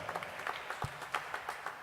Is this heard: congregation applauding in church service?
yes